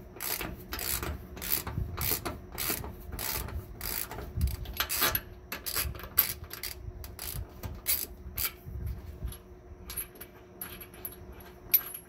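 A bolt on a rear trac bar for a Workhorse W20–W24 chassis is ratcheted loose and drawn out, with steady rapid clicking bursts from the wrench, some metallic rubbing, close and fairly quiet, no talk.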